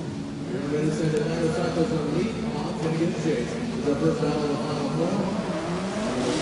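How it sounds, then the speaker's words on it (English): Drift cars launching off the starting line at a Formula Drift event in Indonesia, engines revving hard and steadily with a continuous roar, heard under an announcer talking throughout. "Right off the line is Daigo Saito, and Pond coming to chase him down"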